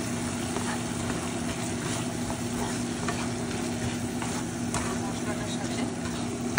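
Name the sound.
stirring string beans in frying masala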